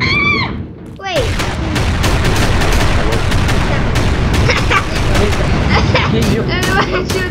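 Video game gunfire crackles almost nonstop from many weapons at once: dense, loud, close shots and bursts after a brief electronic warble at the start, with a voice talking underneath.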